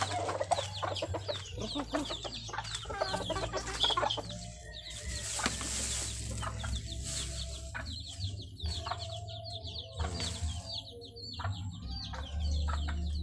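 Backyard gamefowl clucking and crowing in a busy farmyard chorus, with repeated bursts of clucks near and far, a rooster crowing, and a steady low hum underneath throughout.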